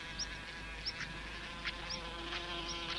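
Insect buzzing near a wasp nest, a steady, close drone that continues throughout with no voices.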